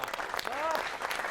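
Crisp, uniform applause from NSG commandos gathered at an Independence Day function, a dense burst of clapping with a brief high whistle-like tone over it.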